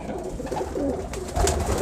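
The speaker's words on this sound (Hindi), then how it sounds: "ये टैडी कबूतर है" Pigeons coo softly and repeatedly in a loft, with low murmuring calls running throughout among the birds, including a Teddy pigeon.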